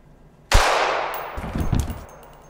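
A single loud gunshot in a Thai short film cracks out suddenly and rings into a long, fading echo, followed by a few dull thuds as it dies away.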